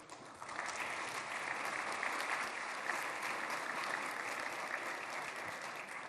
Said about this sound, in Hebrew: ניתן יהיה למחוא כפיים בישיבה זו כפי שכבר ראיתם